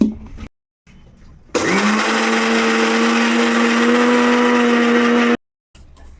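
A mixer grinder powders chutney ingredients with salt, starting with a sharp jolt and holding a loud, steady whirring whine for about four seconds before cutting off abruptly, with quieter kitchen noise before and after.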